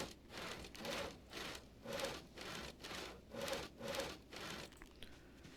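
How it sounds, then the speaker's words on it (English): A hand saw works through wood in steady back-and-forth strokes, about five or six rasping pulses at an even rhythm, quiet and somewhat distant with a hissy texture and no talking. "Sawing all of the things."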